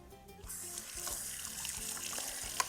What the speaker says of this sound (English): We're going to go ahead and rinse them now.